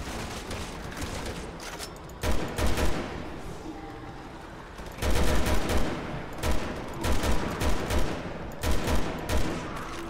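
Repeated heavy gunfire in Resident Evil 6 arrives in several loud clusters of booming shots separated by quieter gaps, close and dominant throughout.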